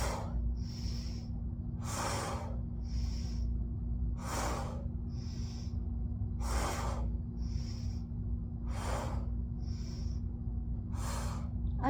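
Heavy rhythmic breathing during quad exercises, with steady alternating inhales and exhales about once per second over a constant low hum, close and clear.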